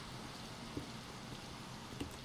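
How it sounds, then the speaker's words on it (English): Rain falling in the video game Skyblock, a faint, even patter that holds throughout, with a couple of soft taps. "And the reason is because it's fucking raining."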